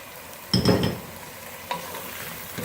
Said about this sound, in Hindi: प्याज, लहसुन, अदरक के पेस्ट में हम अच्छी तरह से इसको फ्राई करेंगे।